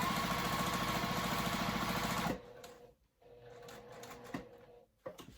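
A sewing machine stitches in a fast, loud, even mechanical rhythm for about two seconds, then stops, leaving faint handling clicks and room noise.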